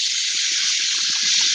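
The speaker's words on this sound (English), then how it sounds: "water some of this peppermint I'm raising up here." Water gushes and sprays steadily onto peppermint plants outdoors, a loud, continuous hissing stream close by with soft patters underneath.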